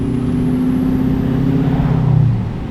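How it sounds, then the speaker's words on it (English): A truck with an automatic transmission drives under steady, loud engine drone; near the end the engine note drops as the gearbox shifts, then the roar settles again. "It's shifting. That was a shift."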